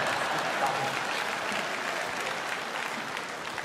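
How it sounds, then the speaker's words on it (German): Audience applause filling a comedy show venue, steady dense clapping from a crowd throughout, loud and continuous without a break. "Mal klatschen."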